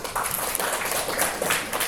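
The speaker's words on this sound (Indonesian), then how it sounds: "Baru tepuk tangan dulu." A class of students claps together in a school lesson, a steady, moderately loud patter of hands filling the short moment with no talk over it.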